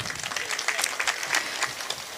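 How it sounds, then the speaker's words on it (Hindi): A crowd at a Hindi poetry gathering claps, a moderate, uneven patter of many hands heard throughout without a break. "थोड़ी ताली वाली बजा दो यार"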